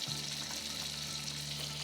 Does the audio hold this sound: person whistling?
no